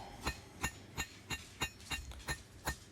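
A hammer striking a hot steel point on an anvil while forging a sign hanger: eight sharp ringing metallic blows at a steady rhythm, close and clear with no talk.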